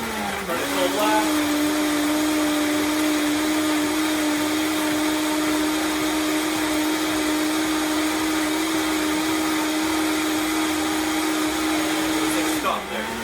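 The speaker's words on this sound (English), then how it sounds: "Turn it full blast." A Vitamix blender roars at full speed in a steady high whine that holds for over ten seconds after a quick spin-up, loud and close, then winds down at the end.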